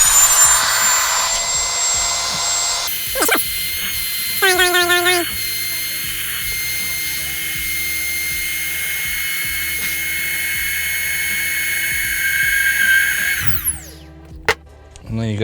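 A Yoyovac electric vacuum pump runs steadily as it draws the air out of a travel luggage bag, giving a loud, continuous whir that holds for about ten seconds and then cuts off, with short mechanical clicks at the start and end.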